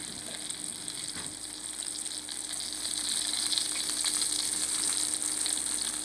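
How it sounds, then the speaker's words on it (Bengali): Brinjal (eggplant) slices fry in a pan with a bright, continuous sizzle that swells a little louder midway, crackling steadily up close without any speech. "বেগুন ভাজা শুরু করে দিলাম"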